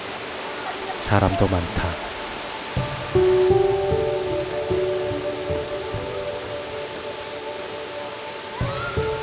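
Steady rushing water from a waterfall swollen by recent rain in the Hantan River gorge fills the background, with a few people talking over it in Korean and some whistling tones.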